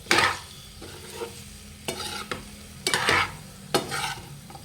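Chicken fry is stirred in a hot pan, with a spatula scraping in four or five distinct close bursts over a low background sizzle.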